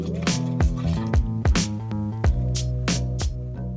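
A spoon stirs spicy ranch sauce in a bowl, giving a series of close, wet squishing and clinking strokes in an uneven rhythm, with no talking.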